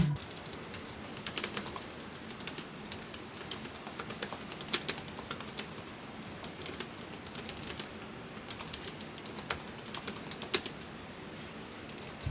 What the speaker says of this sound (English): But let's listen to the sound.